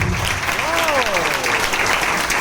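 An audience at a Vestige business seminar claps loudly and continuously, with a voice rising over the applause partway through.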